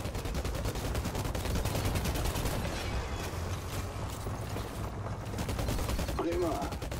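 Rapid rattling gunfire from a new weapon in the video game Outriders runs continuously and loud, a dense stream of shots layered over game noise without pauses.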